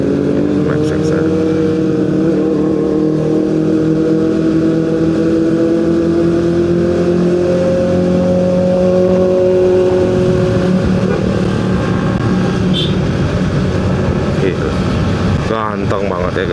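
A Kawasaki ZX25 motorcycle engine runs close by with a steady, buzzing multi-tone drone whose pitch slowly shifts as it revs, with voices heard over it.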